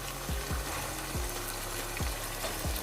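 Vegetables such as cabbage sizzle in a pan for noodles, a steady soft frying crackle with several dull knocks from stirring spaced irregularly through it, fairly quiet and close, with no talk.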